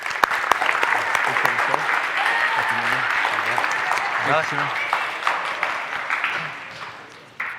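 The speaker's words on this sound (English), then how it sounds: "Let's give a round of applause" A school audience bursts into a loud, sustained round of applause in an auditorium, the dense clapping filling the room and slowly fading, with a voice briefly speaking at the very end.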